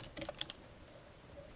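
A few quick keyboard key taps early on, then quiet room tone; soft and close.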